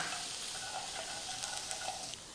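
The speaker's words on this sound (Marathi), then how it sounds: "लसूण असा हलका तांबूस रंग येईपर्यंत परतून घेऊ" Finely chopped garlic fries in ghee for a cashew curry, a soft continuous sizzle and crackle with faint spatters, close but fairly quiet.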